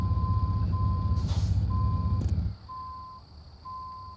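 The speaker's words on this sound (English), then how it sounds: "Oh, somebody's got their truck in reverse." Truck in American Truck Simulator reversing, sounding a series of evenly spaced electronic backup beeps over a low engine rumble that cuts out partway, with a brief hiss like an air brake, and no talk.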